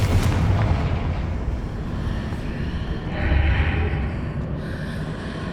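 A Confringo explosive spell is cast in the Hogwarts Legacy video game, heard as a low rumbling blast under constant dense game noise, with a brief brighter whoosh partway through.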